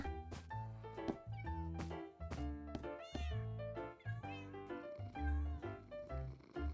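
Cats in Minecraft meow over and over, with a quick series of short, high, tonal calls, some rising and falling. They overlap a steady, soft musical backdrop, and the meows stay close and fairly loud.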